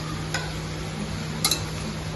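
Chakri spirals of dough fry in medium-hot oil, giving a steady, close sizzling hiss that runs throughout, with a couple of faint clicks along the way and a low hum underneath.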